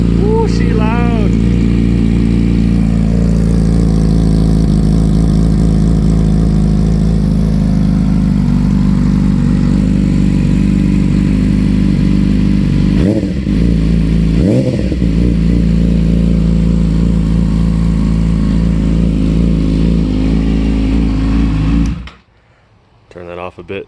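A 2017 Yamaha R6 sport bike with a new M4 slip-on exhaust idles loud and close after a cold start, with two quick throttle blips, then cuts off abruptly near the end.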